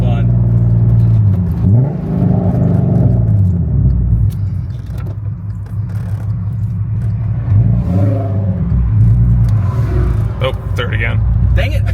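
VW MK6 swapped with a 3.6 VR6 and 4Motion pulls away, its engine rising and falling in revs twice with a loud, close rumble while people talk over it.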